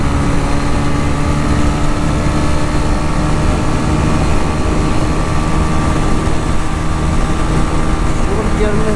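A TVS Ronin motorcycle's engine drones loudly and continuously during a top speed test, with heavy wind rush over a steady high-revving hum and no pauses.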